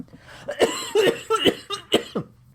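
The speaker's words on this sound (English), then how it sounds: "I always seem to have a cough or something when I start to record these" A man coughs repeatedly while recording a podcast in a studio: about six or seven short, close coughs in an uneven string, some of them throaty and rough.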